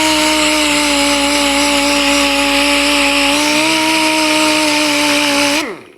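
A cheap Chinese air sander works on wood with a loud, steady high-pitched pneumatic whine and constant hiss, running evenly for several seconds before spinning down abruptly at the end.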